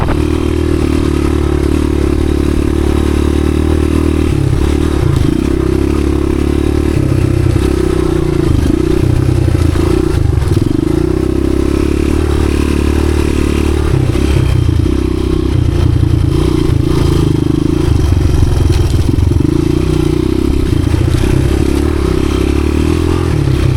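A 1986 Honda XR200R dirt bike rides single track with its idle problem fixed. The engine drones loud and steady at close range, rising and falling with the throttle, and loose clatter and scraping from the trail run throughout.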